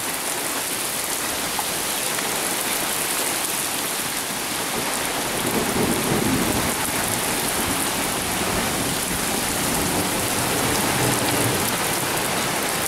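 A heavy downpour drums steadily on the surroundings of a cabin during a summer thunderstorm, a dense, loud hiss of rain with a low roll of thunder partway through.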